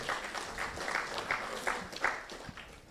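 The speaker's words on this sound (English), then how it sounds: "Please give them another round of applause." Audience applause fills a Jamaican youth leaders awards ceremony, a steady dense clapping from a crowd that keeps going through the whole stretch with no voices.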